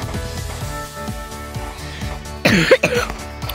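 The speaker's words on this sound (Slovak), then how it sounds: "Moc kašlem." A short burst of harsh coughing, close and fairly loud, over a steady background of music with a plucked rhythmic pattern.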